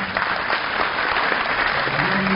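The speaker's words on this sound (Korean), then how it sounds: "큰 박수로 맞이해 주시기 바랍니다" At a university entrance ceremony, an assembled crowd of new students and guests claps steadily in a close, full round of applause welcoming someone to the stage, the sound dense and unbroken.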